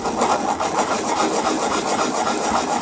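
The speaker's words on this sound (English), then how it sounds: "we're just going to take our sandpaper, hold it down flat, and with some pressure on this" Sandpaper held flat and pressed against the bottom of a spinning tumbler cup, a steady loud abrasive rasping scrape that continues without pause.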